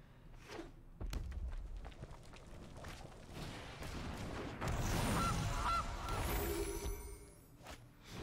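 Goose honk sound effects in a Magic: The Gathering digital card game match: a couple of nasal honks amid game thumps and whooshes, fairly close and with no talking.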